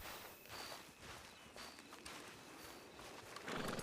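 Hooves clip-clop faintly and steadily as horses walk, a soft distant patter of steps under a broad outdoor hiss, with a slightly louder rustle at the end.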